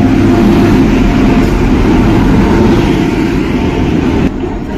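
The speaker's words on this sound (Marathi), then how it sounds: "फायनली ट्रेन आलेले" A train pulling into Valsad railway station on a crowded platform at night, a loud continuous low rumble of rolling wagons close by, easing slightly before cutting off near the end.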